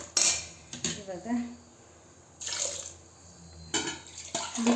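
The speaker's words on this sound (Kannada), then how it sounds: "ಮಿಕ್ಸಿ ಜಾರು ತೊಳೆದ್ಬಿಟ್ಟು ಆ್ಯಡ್ ಮಾಡ್ತಾಯಿದ್ದೀನಿ." A mixer jar being rinsed under a kitchen tap: short bursts of running water alternate with metallic clatter and clinks of the jar and lid, close and fairly quiet.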